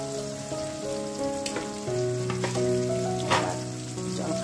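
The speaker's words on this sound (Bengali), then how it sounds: "মাছ ভাজা চলছে" Fish fries in a covered pan, a continuous soft sizzle with occasional crackling pops, heard under steady background music.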